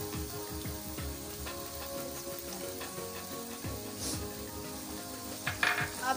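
Onions sizzle in a hot pan for an Afghani omelette, a steady frying hiss with a few faint utensil scrapes near the end, heard up close with no talking.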